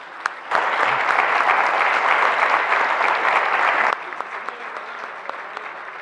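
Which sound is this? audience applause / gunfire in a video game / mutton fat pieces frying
audience applause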